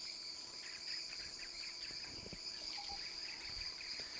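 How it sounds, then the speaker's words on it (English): Birds and insects fill a video game scene with a steady, faint outdoor ambience of chirping crickets, with occasional bird calls. "Let me know if it's getting really noisy with the birds and stuff"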